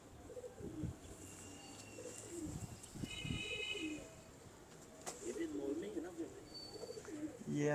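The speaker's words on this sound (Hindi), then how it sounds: "बहुत अच्छा कबूतर है माशाल्लाह।" Pigeon cooing from a broad-chested pigeon, soft low coos recurring through the clip amid background voices and bird chatter.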